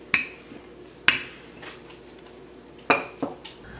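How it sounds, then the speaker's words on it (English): A dry metal frying pan being pre-warmed clanks against a stovetop in a few sharp, separate knocks, close by, with quiet pauses between them. "here I have a dry frying pan that I am pre-warming"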